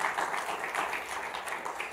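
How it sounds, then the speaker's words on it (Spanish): Brief applause from a church congregation during a Tuesday service, fairly faint and uneven, with scattered clapping pulsing over a couple of seconds. "Le da ese aplauso fuerte"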